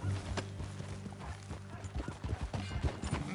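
Horse hooves clopping at a ranch in an irregular walking rhythm, fairly close, with low rumbling in the background and a faint voice.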